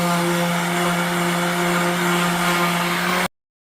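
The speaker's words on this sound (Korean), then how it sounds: "사포 600짜리로 일단 이렇게 마무리를 했고" An electric sander with 600-grit sandpaper drones steadily on merbau wood for a dining table, with a buzzing motor hum and a rough scratchy layer, then stops abruptly.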